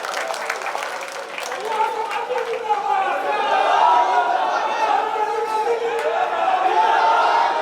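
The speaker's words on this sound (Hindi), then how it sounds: "मैं चाहता हूँ कि तमाम लोग एक बार रुखसाना नाज़िम सिद्दीकी के लिए पुरजोर तालियों का इस्तेमाल करें।" Audience applause at a Republic Day mushaira poetry gathering in Furkaniya Chowk: a sustained wash of clapping from a large crowd, building steadily, with chatter and voices mixed in throughout.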